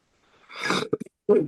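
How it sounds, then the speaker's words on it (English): A man gives a single harsh cough followed by a few short throat bursts and a second cough, close and fairly loud during an interview conversation. "excuse me, I've got a bad cough actually"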